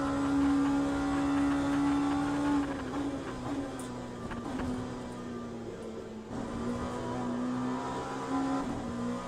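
A race car engine in the game Le Mans Ultimate drones steadily with a high whine and a gritty rasp like scraping the ground, holding a fairly constant pitch throughout.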